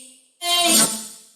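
A sampled a cappella vocal phrase enters with a drum fill after a quiet lead-in, sustained and bright for about a second before tapering off.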